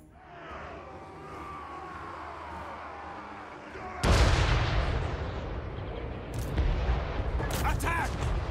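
Machine gun fire and heavy battlefield booms in Total War Warhammer 3, quiet at first, then a loud sustained burst of shooting and blasts that continues to the end.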